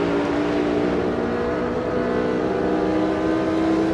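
Race car engine in Automobilista 2 on a wet Interlagos track, a steady loud drone held under throttle heading downhill toward the last corner, with a dense, unbroken roar and no voices.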